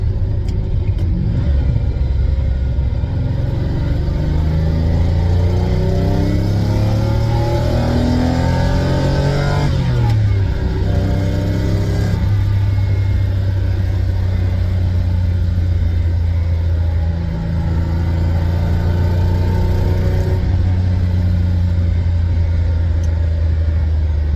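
A Lamborghini Countach engine pulls loudly from inside the car while driving, rising through revs, dropping at a gear change with the gated manual, then droning on steadily for the rest of the run.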